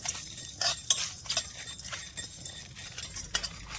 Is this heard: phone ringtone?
no